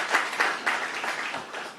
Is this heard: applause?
yes